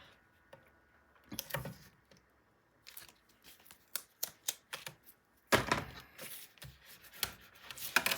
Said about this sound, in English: I'll just use 2 strips of 1/2-inch tape